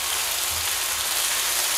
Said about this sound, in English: To the pan, I'm gonna add some garlic and ginger, minced. I wanna saute that for about a minute